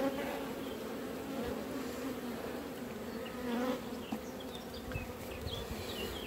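A honeybee swarm hums steadily and close throughout while a queen is being marked, a dense continuous buzz with small shifts in level and no talking.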